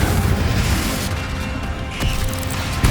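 A Bombarda spell explosion in Hogwarts Legacy, a loud, booming blast with crashing debris that rumbles on throughout, swelling again near the end.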